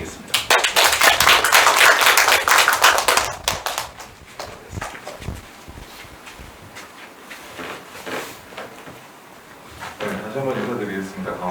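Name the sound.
applause for a speaker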